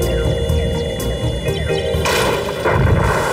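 Cartoon gunshots ring out in a Hindi-dubbed Oggy and the Cockroaches episode, with several sharp bangs in quick succession over a humming, busy background.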